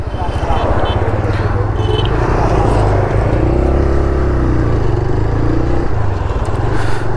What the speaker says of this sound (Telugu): తిరుపతి దగ్గరకు వచ్చేసాం కదా, ఫుల్ ట్రాఫిక్ ఉంది